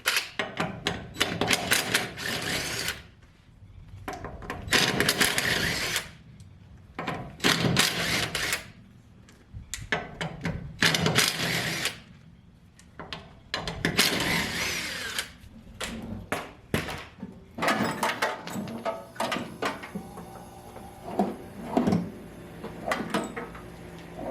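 Power tools working on a wheel of an LS-swapped Rambler, with repeated bursts of a drill or impact driver separated by short pauses and clattering handling noises, fairly close and loud, with no talking.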